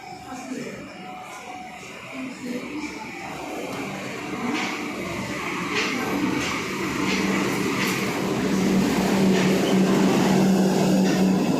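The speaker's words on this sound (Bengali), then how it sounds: "ট্রেন আসছে" A metro train pulls into a station, its rumble and rail noise building steadily louder over several seconds amid platform ambience.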